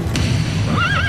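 A horse whinnies once with a rising and wavering cry, heard clearly over a steady low rumble and background noise.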